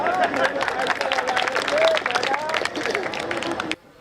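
Audience applause at a Hindi comic poetry gathering in Goverdhan, steady clapping mixed with crowd murmur and a voice over it, ending abruptly near the close.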